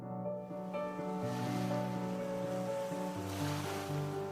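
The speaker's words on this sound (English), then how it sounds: "the soft, desolate sounds of the waves running against the thin strip of the shore" Lake waves lap softly against a thin strip of shore at night in a visual novel game, a steady wash of gentle surf layered under sustained tonal background music.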